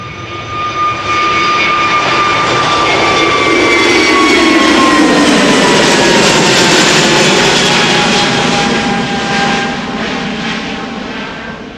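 An airliner jet takes off from the Polderbaan runway at Schiphol, a loud, close engine roar with a rising whine that swells to a peak and then slowly fades as it climbs away.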